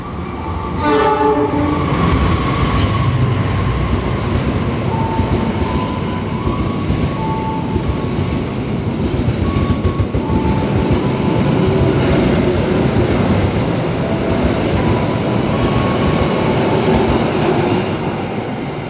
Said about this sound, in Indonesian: kereta api Argo Sindoro ya yang melintas tujuan stasiun Semarang Tawang, keberangkatan dari stasiun Gambir